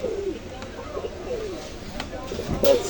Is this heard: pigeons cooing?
yes